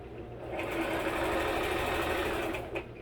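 A sewing machine stitches a curtain in one continuous close, whirring run of a few seconds, starting up and slowing briefly near the end.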